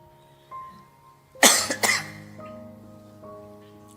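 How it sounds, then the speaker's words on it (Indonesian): A couple of sharp, harsh coughs burst out close to the mic in a quiet room, with a low steady hum continuing underneath before and after. "Penyakitnya batuk."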